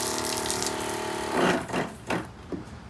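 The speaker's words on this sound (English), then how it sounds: "you can definitely take a comfortable shower with this thing. It has a lot of pressure." Portable pump shower sprays water from a 5-gallon tank with a steady motor whir and hiss of spray, then turns into uneven splashing bursts as the stream shifts, close and moderately loud.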